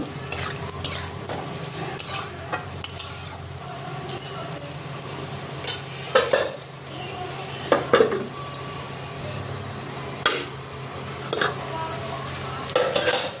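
Pointed gourd and potato fry in a pan while being stirred, a steady sizzle broken by repeated scraping clinks of a spatula against the metal, close and fairly loud.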